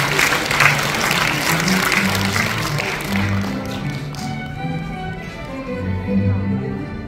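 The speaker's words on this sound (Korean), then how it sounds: "큰 박수 부탁드립니다." Steady applause from a seated audience fills an inauguration ceremony hall, fading slightly toward the end as a low hum of voices and music continues beneath it.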